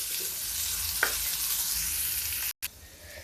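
Finely chopped onion fries in a pan over a low gas flame, giving a soft, steady sizzle up close, with a brief clink partway and a short cut near the end.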